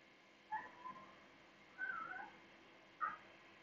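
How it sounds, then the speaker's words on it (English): A cat cries indoors with a few short, faint meows spread across a few seconds over a quiet background hum. "He's crying all crazy."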